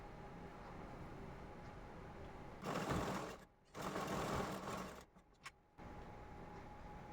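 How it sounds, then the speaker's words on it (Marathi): A sewing machine stitches the lining of a puff sleeve in two bursts of steady whirring, each lasting a second or two, set against a low background hum. Small clicks and handling sounds come between the runs. "त्याच्यावर अस्तरवर टिप मारून घेऊया"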